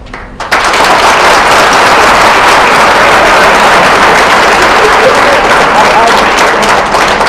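Loud, dense audience applause erupts after a brief pause and continues steadily, a crowd of many hands clapping close by.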